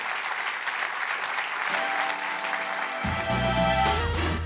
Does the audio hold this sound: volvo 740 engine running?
no